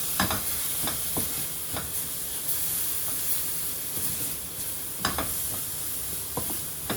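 Spiced green pea curry masala, with chilli powder, garam masala and pepper, sautéing over a low flame in a pan: a steady sizzle and hiss broken by scattered scraping stir strokes, with no talking.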